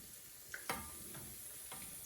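Potato pakoras fry quietly in hot oil in a pan, a low steady sizzle broken by a few sharp clinks and taps from a slotted spoon and knife as the pieces are turned over.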